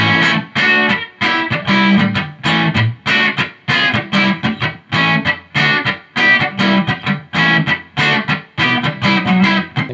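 Electric guitar played through a Marshall Code 50 amp on a Fender-style clean preset, strummed chords in a steady rhythmic pattern, loud and close with no talking.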